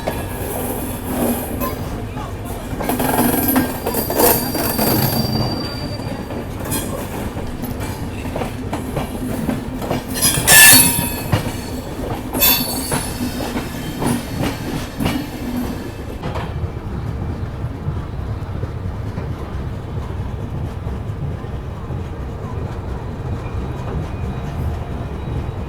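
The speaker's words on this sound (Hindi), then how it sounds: "अभी देखो कैसी लाइनें चेंज कर करके मेन लाइन पे पहुंच रही है" A Humsafar special train on the Mumbai–Amritsar route rolls through junction points onto the main line, with rhythmic wheel clatter, rail clicks and a high wheel squeal, then settles into a steadier rumble; faint voices come through in places.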